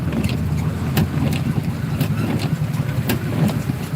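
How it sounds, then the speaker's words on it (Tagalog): Steady rumbling wind buffets the microphone outdoors in heavy rain, with intermittent gusty thumps and a constant low roar. "Kasi yung hangin is papunta sa akin."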